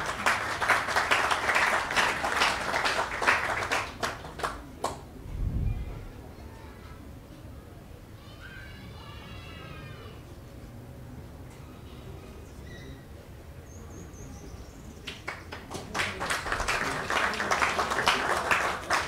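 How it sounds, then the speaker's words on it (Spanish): An audience at a formal project launch in Ecuador applauds in two bursts, with lively clapping at the start that fades to near quiet, then swells again toward the end. "Con el aplauso de los presentes"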